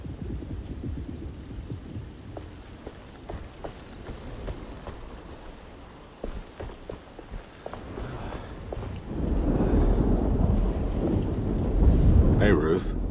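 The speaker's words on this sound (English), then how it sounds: "Just keeping an eye out for the storm. Radio says it could be a wild one." Stormy weather in the Alone in the Dark game: steady rain and wind noise with scattered footsteps, swelling into a louder, deeper rumble of thunder and gusts toward the end.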